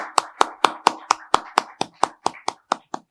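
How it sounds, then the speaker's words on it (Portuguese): Welcoming applause at a Brazilian academic lecture, a slow, even series of about fourteen distinct handclaps spaced roughly a quarter second apart, close and clear, with no talk over them. "Eu peço, então, aplausos de boas-vindas a Paulo da Luz Moreira."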